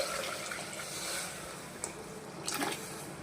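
Dissolved tamarind water is poured into a cooking pot, making a soft, steady splashing and trickling that is faint and continuous, with a couple of small splashes near the end.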